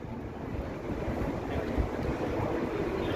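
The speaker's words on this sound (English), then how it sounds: "It's very windy though" Strong wind gusting on a busy city street in Toronto, low rumbling buffeting and blustery roar across the whole stretch, fairly close and continuous.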